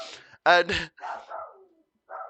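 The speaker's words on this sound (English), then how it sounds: "sorry about the dogs." Dogs barking indoors in a few loud, sharp barks close to the microphone, set among stretches of someone talking.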